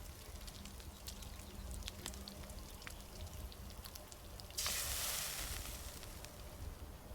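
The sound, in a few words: food cooking over fire in Enshrouded video game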